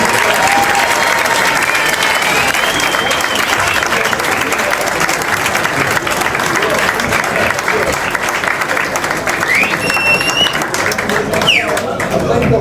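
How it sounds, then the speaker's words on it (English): A crowd at an awards presentation applauding loudly and continuously, dense clapping filling the room throughout, with some voices mixed in. "a big round of applause to Peter and his team"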